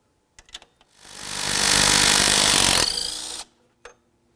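A power tool zips out a 15mm alternator bolt on a Buick LeSabre in one close, loud, steady whirring burst lasting about two seconds, bracketed by a few small metallic clicks and taps.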